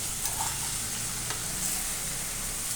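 Okra curry cooking in a pan over high heat is stirred, a steady close sizzle with soft scraping and a few faint clinks.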